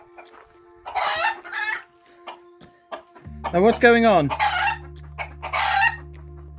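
A hen clucks close by in a farmhouse workshop, with a cockerel beside her, in repeated bursts of chattering calls. Someone speaks briefly, and a low steady hum starts partway through.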